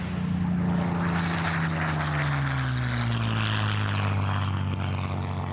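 A Supermarine Spitfire propeller fighter in flight gives a loud, steady engine drone whose pitch slowly slides downward as it passes, sustained for the whole stretch with no voices.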